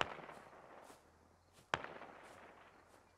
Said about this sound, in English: BTR still letting some rounds loose every so often